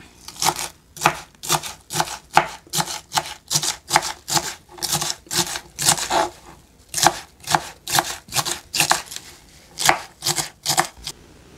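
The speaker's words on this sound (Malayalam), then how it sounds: "നമുക്ക് ചെറുതായിട്ട് അരിയാം." Pumpkin leaves being finely chopped with a knife on a board, a steady run of crisp, evenly spaced thuds about two or three per second, close and clear with no talking.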